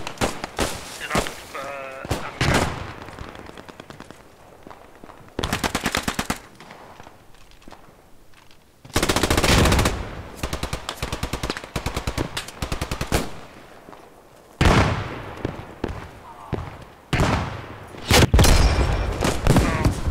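Heavy gunfire and booming tank cannon shots in the Post Scriptum video game, Utah Beach map, coming as repeated loud bursts and blasts with quieter gaps between, over a dense battlefield din.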